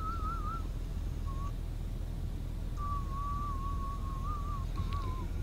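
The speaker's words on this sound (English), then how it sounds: "Somebody decides to whistle in there." A player in a GTA V online session whistles a thin wavering tune in broken phrases over a steady background hum, with no talking.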